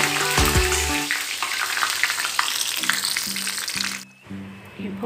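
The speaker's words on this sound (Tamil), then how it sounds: "மோர் மிளகாய் பொரிச்சுக்கலாம்." Buttermilk-soaked chillies frying in hot oil, a loud steady crackling sizzle that runs throughout, with a brief dip near the end and some kitchen clatter underneath.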